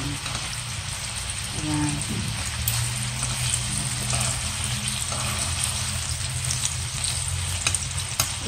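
Bacon sizzles and crackles steadily in a frying pan, a continuous close hiss with small pops, and a brief spoken word near the start.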